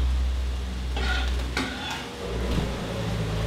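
Ground turkey frying in a pan on a stovetop, a soft steady sizzle with a few scraping stirs of a utensil against the pan, fairly quiet and close.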